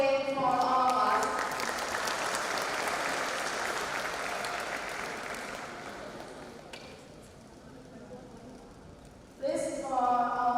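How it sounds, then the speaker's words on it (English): Conference seminar audience breaks into applause, a dense crowd clapping that starts loud and slowly fades out, followed by a voice talking at the end. "Please give warm applause again for all of us."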